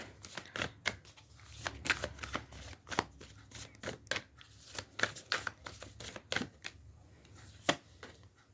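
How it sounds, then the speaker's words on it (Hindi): A deck of tarot cards is shuffled, giving rapid, crisp riffles and slaps in uneven bursts, quiet and close, with no voices. "इस दोबारा फिर भी शफल कर लेती हूँ"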